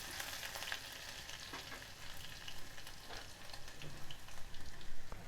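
Coarsely crushed ginger and garlic frying for vegetable biryani, a dense, steady, quiet sizzle with soft stirring scrapes throughout and no talk.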